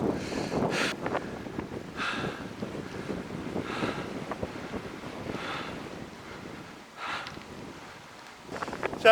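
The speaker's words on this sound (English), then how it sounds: "So the reason it's so windy at the moment" Strong wind buffets the microphone on a cycling ride, roaring in uneven gusts that rise and fall loudly throughout, with no speech.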